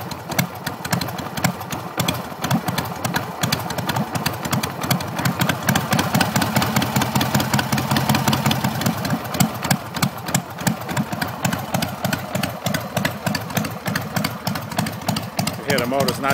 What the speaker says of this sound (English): Got that thing idling, hopefully.